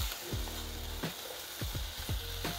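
Golden dried beef (carne seca) frying with a garlic and onion seasoning mix sizzles steadily while a spoon scrapes the pan in several distinct strokes. No one speaks.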